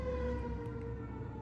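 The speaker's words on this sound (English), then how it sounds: "And here, yeah, there's a siren." A distant siren wails faintly as a thin, steady tone in the background of a quiet indoor room, and a sharp click lands at the very end.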